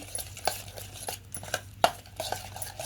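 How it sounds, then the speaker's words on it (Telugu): A spoon stirring coriander powder into a paneer curry in a pot, with scattered clinks and scrapes against the metal, close and fairly clear, no talking. "కొంచెం ధనియాల పొడి వేసుకుందాం. ఇదంతా మనం మంచిగా కలుపుకుందామండి."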